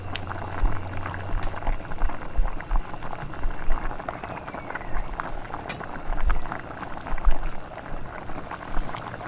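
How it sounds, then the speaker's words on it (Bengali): Broiler chicken curry gravy boiling in a pot, dense continuous bubbling and popping, close and steady throughout, with no talk. "দেখো ঝোলটা ফুটতে শুরু করে দিয়েছে"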